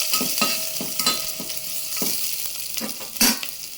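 Ginger, garlic and green chillies fry in hot ghee, giving a steady near sizzle broken by a series of spoon scrapes and taps against the pan and one sharper clatter toward the end.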